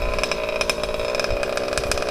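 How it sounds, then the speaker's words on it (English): A gas engine on an HPI Baja RC car, fitted with a new clutch, revs in a buzzy, high-pitched drone. Its throttle surges rise and fall rapidly up close, with no voices. "The RPMs come on a lot sooner than before."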